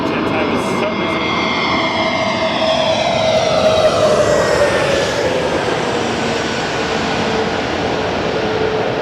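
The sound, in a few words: Airbus A321neo jet aircraft engines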